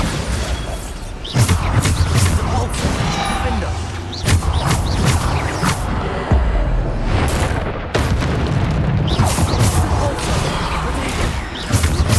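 A Bombarda spell explosion in the video game Hogwarts Legacy, heard as loud, booming blasts among constant dense combat noise, with repeated sharp bursts and crashes and a voice calling out over the chaos.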